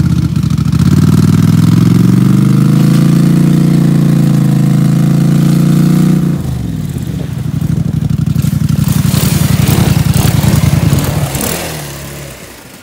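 A beater quad ATV engine runs loud and close with a steady idle, then its pitch drops and it settles into a rougher, lower idle before fading at the end, with no talk.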